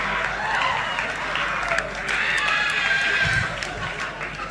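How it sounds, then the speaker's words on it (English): An audience at a graduation ceremony claps for graduates in a steady wash of applause, with a speaker's voice carrying over the clapping. "Cheer in the sense, just clap."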